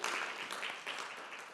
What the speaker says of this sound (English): Give them a standing ovation. Give them a clap.